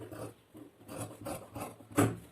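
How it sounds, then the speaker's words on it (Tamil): Blades cut through four stacked layers of cloth for the armhole of a child's blouse, making four quiet, rasping snips in an even rhythm, close and alone. "இப்போ கைக்குழி 4 துணி சேர்ந்து கட் பண்ணிக்கலாம்"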